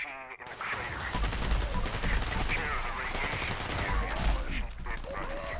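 A commando rifle in Fallout 76 fires in rapid, sustained automatic bursts, loud and dense, over faint game ambience with a voice talking underneath.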